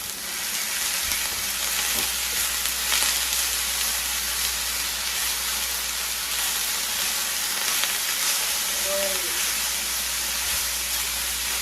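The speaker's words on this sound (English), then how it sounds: "we're gonna saute this up and let it get a little soft" Wonton filling with onion powder sautés in a pan, giving a steady, even sizzle that runs the whole time at moderate level, with a few faint scrapes and stirs and no talking.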